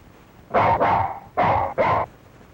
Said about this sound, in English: Now, isn't he a clever dog?